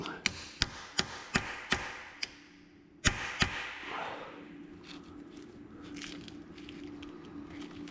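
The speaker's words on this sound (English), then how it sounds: "Let's take this 1/2-inch American deep socket, tap on that guide, see if we can get freed up." A 1/2-inch deep socket taps a seized valve guide on a Ford flathead V8, about eight sharp metallic knocks close by, a short pause mid-run, then quiet shop background.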